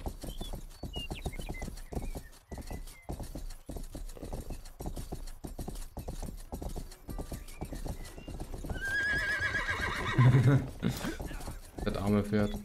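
Rapid, rhythmic hoofbeats of a galloping horse in the video game Rustler run throughout, then a loud whinny rises near the end, with voices talking over it.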